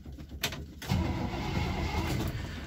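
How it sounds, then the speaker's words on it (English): A carbureted 1962 Chevy Impala two-door sports coupe, left unstarted for a couple of months, cold starts. A brief crank of a few rough turns catches almost at once into a steady, rumbling idle close by. "I thought I'd start this 1962 Chevy Impala two-door sports coupe"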